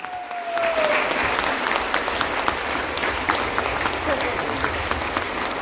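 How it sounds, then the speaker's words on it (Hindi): Crowd at an RCM zonal celebration in Guwahati breaks into sustained, dense clapping that carries on evenly throughout, with a brief voice at the start. "सरोज छाबड़ा मैम के लिए बस जोरदार तालियां, जोरदार से।"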